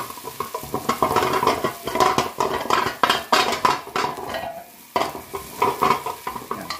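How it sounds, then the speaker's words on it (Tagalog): Onion and garlic sautéing in a pan for Filipino asolang baboy (pork stew), with a continuous close sizzle broken by repeated scraping and clinking stirring strokes that pause briefly near the end. "Lutuin lang po natin konting sibuyas. Pag luto po, bawang sibuyas pa lang,"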